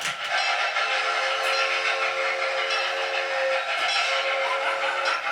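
A steam sugar train in Maui rumbles steadily along the track with a sustained, loud whistle-like tone held over the clatter throughout.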